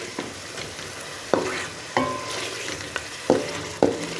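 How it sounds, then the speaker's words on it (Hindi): Chicken and spices frying in a karahi, a soft steady sizzle broken by several sharp metallic scrapes of a spoon stirring against the pan. "चिकन की बुनाई अच्छी तरह हो चुकी है।"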